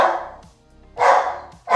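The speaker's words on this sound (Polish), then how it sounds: "to jest właśnie nagrywanie, kiedy ma się w domu psa szaleńca" An excited dog indoors at home barks in loud, close bursts, three barks spaced about a second apart with quiet gaps between.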